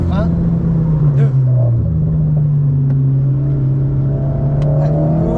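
Alpine A110 sports car on a race track, its engine droning loud and close and rising in pitch as it accelerates, with a brief dip as a gear changes, under an ongoing engine hum.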